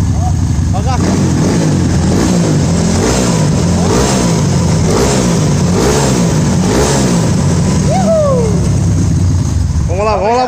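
A Honda Titan 150 motorcycle bored out to a 266cc engine revs hard in a workshop, its engine note rising and falling in repeated throttle blips, loud and close, with people talking over it.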